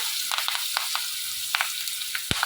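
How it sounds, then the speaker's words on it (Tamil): Seasoning sizzles and crackles in a pan as part of a home-cooked Tamil dish, a steady close frying hiss dotted with small pops and one louder crack near the end. "இது நல்லா பொரியட்டும்."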